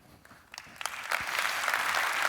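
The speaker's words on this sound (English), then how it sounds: "Yes, you can applaud now." An audience at a talk breaks into applause. It starts faint and scattered, then swells into dense, steady clapping that carries on to the end.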